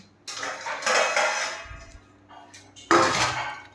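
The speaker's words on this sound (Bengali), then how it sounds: "এবার চাটনিটা বসাবো, তার আগে ওই ভাজাটা একটা পাত্রে রাখবো" Fried food is tipped from a pan into a dish, with two bursts of clattering metal and scraping utensils against cookware, close by and separated by a brief quiet gap.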